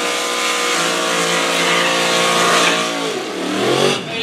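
A 1970 Dodge Charger R/T roars at a drag race, its engine revving loud and close with rising harmonic sweeps, then easing and climbing again near the end.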